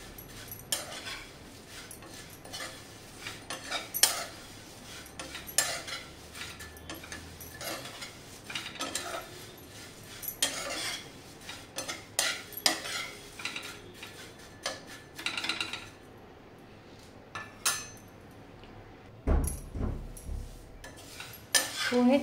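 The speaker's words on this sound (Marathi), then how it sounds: "त्यामध्ये आपण हे पोहे घेऊया आणि चांगले असे 2 ते 3 मिनिटं चांगले असे मंद आचेवर खरपूस असे भाजून घेऊया" Poha (flattened rice) dry-roasts over low heat in a kadhai with no oil, stirred by a spatula that scrapes and clinks against the metal in irregular bursts at moderate loudness, with no talking.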